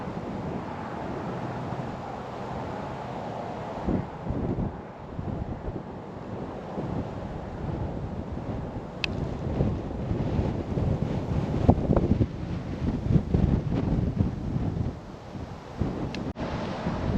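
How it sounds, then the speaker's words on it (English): Strong wind blows across a frozen lake during ice fishing, a continuous low rumbling roar of gusts buffeting the microphone that swells louder toward the end, no speech. "the wind is crazy"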